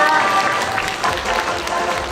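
Applause from an audience cheering on a child performer at a stage show, a dense, steady wash of clapping throughout with voices mixed into the crowd noise.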